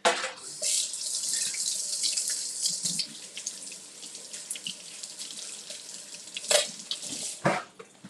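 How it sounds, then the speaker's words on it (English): A boiled egg is rinsed under a running kitchen tap, a steady close hiss of flowing water splashing into a sink, with brief louder splashes near the end and no talking. "Just rinse this off and peel it."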